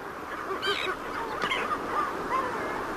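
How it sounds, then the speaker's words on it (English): Kelp geese honk from the rocks of a Chilean shore near kelp beds, with several harsh calls rising over a steady wash of background noise. "There were always plenty of kelp geese browsing on rocks close to the kelp beds."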